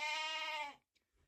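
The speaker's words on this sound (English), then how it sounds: "She's a very happy little sheep." A dairy sheep being milked gives a single clear bleat, loud and close, with strong harmonic tone that cuts off abruptly, followed by near silence and faint shuffling.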